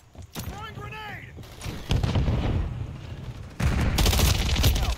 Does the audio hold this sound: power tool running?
no